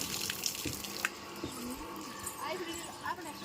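Water running from a tap into metal pots at home, a steady splashing flow heard faintly beneath people talking, with a few clinks and shifts in the stream.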